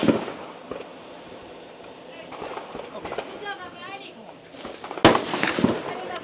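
Gunshots ring out at a shooting competition stage with steel targets, a scattering of sharp cracks that grows loudest near the end, heard under a voice talking.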